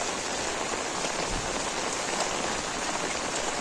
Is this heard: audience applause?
no